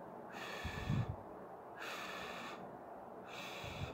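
A voice imitates the pursed-lip pink puffer breathing of an emphysema patient sitting with raised shoulders: three hissing exhalations with short snorting intakes between them, close and quiet, in a slow, regular rhythm.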